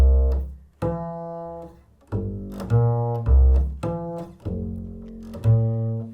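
A warm electric bass plays a slow walking blues line of low root notes alternating with tenths above, each plucked note ringing before the next.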